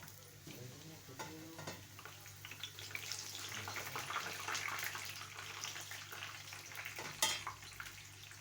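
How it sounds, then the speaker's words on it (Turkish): Sliced eggplant fries in a pan of oil for islim kebab, a faint, steady sizzle and crackle with soft stirring and scraping sounds throughout. "hemen kızartıyorum."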